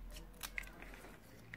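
Scissors trimming paper by hand at a watercolor pencil craft table, a few faint, quick snips spaced apart in a quiet room.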